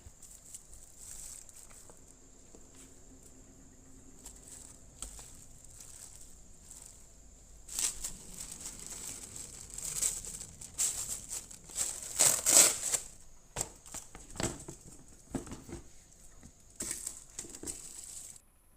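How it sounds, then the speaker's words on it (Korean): Plastic sheeting crinkles and rustles as it is laid over perilla leaves pickling in soybean paste, soft at first, then louder bursts of crackling and handling, close up with no voices. "공기가 통하지 않도록 비닐을 덮어주고 위에 무거운 돌을 올려줍니다"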